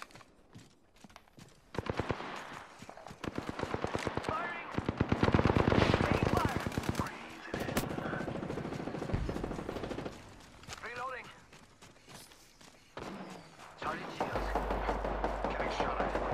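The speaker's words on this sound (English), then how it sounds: "Where's the person that shot at me?" Rapid automatic gunfire from a firefight in Apex Legends, loud, close bursts of fast shots with pauses between, while a player talks over the action.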